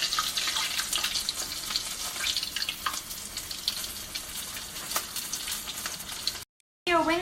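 Chicken wings flash fry, sizzling and crackling loudly in hot oil in a frying pan, a constant frying hiss with popping bursts, cut by a brief silence near the end.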